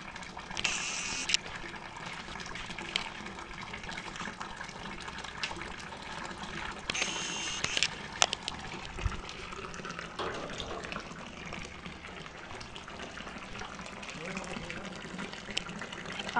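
Water pours steadily into a cleaned-out grotto pond, making a continuous broad gushing wash over the whole stretch, with a few brief louder splashes and faint background voices.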